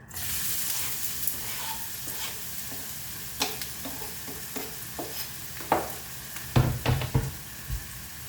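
Chopped onion fries in hot oil for an egg shakshuka, a steady close sizzle broken by scattered spoon knocks and scrapes that grow busier near the end.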